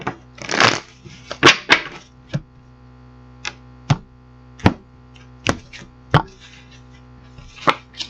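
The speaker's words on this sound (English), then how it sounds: "So we're going to get these cards shuffled up" Tarot cards shuffled by hand, giving a scattered series of sharp, close snaps and brief riffling bursts with quiet gaps between them, and no voices.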